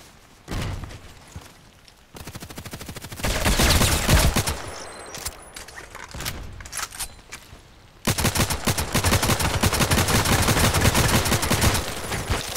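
Automatic gunfire in the online shooter Contract Wars, with rapid bursts and sustained volleys of shots, some close and loud, others more distant, with no talk over them.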